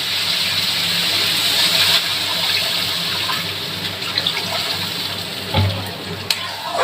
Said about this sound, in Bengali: তো আমি এইবার জল দিয়ে দেবো, সামান্য জল দেবো।